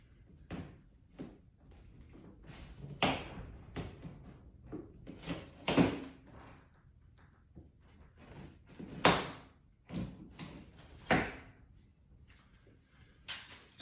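Cardboard shipping box holding a teardrop trailer door being opened, with a string of scattered handling knocks, flap scrapes and thuds at close range, irregular in rhythm and with no talking.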